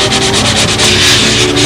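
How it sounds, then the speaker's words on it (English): Sandpaper rubs over the filled wing fillets of a balsa model aircraft, a close, loud, continuous scratchy rasp with quick repeated back-and-forth strokes. "I just want to get a little sanding done on these fillets"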